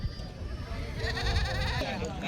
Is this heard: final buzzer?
no